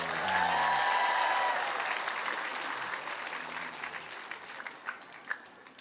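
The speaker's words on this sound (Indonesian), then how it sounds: "Ada Pak Kajati, sama tepuk tangan ada Ustadz Yusuf Mansur." Crowd at an Islamic boarding school graduation event applauding a guest's arrival, a dense burst of clapping that swells, then thins into scattered claps as it fades.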